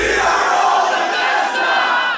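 A large E3 2019 conference crowd roars and chants in unison, a loud, dense wall of voices that stays steady and close for the whole stretch.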